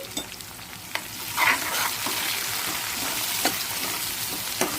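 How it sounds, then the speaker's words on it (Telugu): Curry leaves and asafoetida tempering in hot oil for spinach dal, a steady close sizzle with occasional stirring scrapes and pops, no voices. "ఇప్పుడు కరివేపాకు, ఇంగువ వేసుకుంటే తాలింపులో చాలా బాగుంటుంది."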